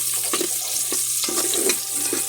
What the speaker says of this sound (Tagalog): So gisa-gisa lang tayo.